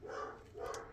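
A caged dog gives two drawn-out barks or whining howls, muffled and moderately loud, as if from another room in a home.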